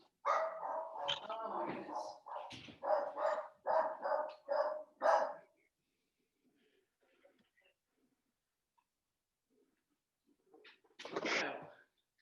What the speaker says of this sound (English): You have a dog coming too.